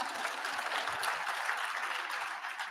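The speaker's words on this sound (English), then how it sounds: "you go ahead and clap" Audience applause at a closing plenary session of a national homelessness conference, steady broadband clapping from a large crowd filling the whole stretch at an even, sustained level.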